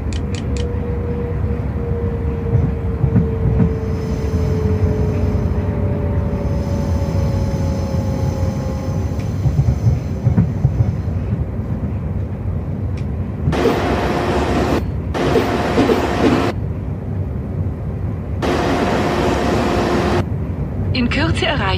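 A simulated ÖBB 4748 train in Train Simulator rumbles steadily as it slows into Feldkirch station, with a falling tonal whine, then a bright chiming announcement tone cuts in near the end over the low rumble.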